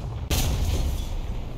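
A sudden heavy boom of gunfire striking the player's tank in War Thunder, close and loud, followed by a dense rumbling roar that fades slowly.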